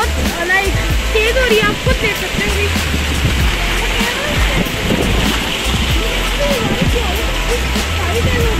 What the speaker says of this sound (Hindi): बारिश हो गई है खूब तेज